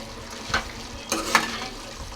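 Chili powder is stirred into chicken curry in a pan, with soft sizzling frying underneath and a few distinct scraping strokes of the spoon against the pot, fairly close and without talking.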